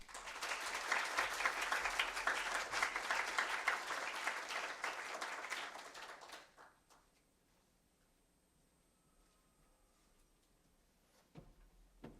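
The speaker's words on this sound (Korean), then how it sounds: "큰 박수로 부탁드리겠습니다" Audience applause fills a hall at a university mechanical engineering anniversary forum, dense steady clapping for about six seconds before cutting off into near silence with a faint thump at the end.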